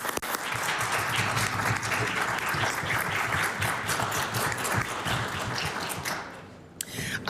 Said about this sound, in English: please join me in applauding Stu Metz for their continued devotion to the arts